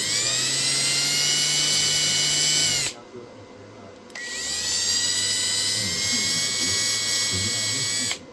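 A power drill with a 1/8 drill bit whines loudly and steadily in two bursts, with a short quieter pause between them where the motor drops off before spinning back up.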